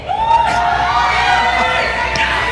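A packed arena crowd at the Mobile Legends M6 knockout stage roars in a loud, continuous wave of cheering and whooping, with a voice rising over the din.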